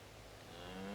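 Cattle moo during a wild cattle muster in remote Australia, with one low, drawn-out bellow rising steadily out of a noisy, crackling old film recording and no talk.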